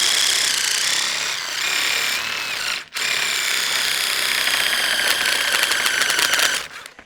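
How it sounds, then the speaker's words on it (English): A DeWalt power tool attachment cuts through sheet steel with a steady, continuous grinding whine that holds for about seven seconds, dropping out briefly once before resuming and then stopping. "For just cutting down sheet steel maybe to size, or even if you're trying to do it accurately along a line."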